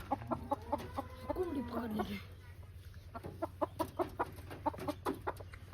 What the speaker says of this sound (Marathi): आता कोंबडा आम्ही बाहेर काढतो